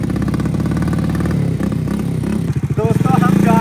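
A heavy motorbike on a village farm road revs its engine in loud, throbbing bursts close by, while someone talks over the noise.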